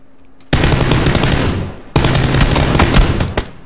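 Automatic M4 rifle fire in the battle royale game PUBG, two loud close bursts of rapid shots, the first lasting about a second and a half and the second running to the end after a short gap.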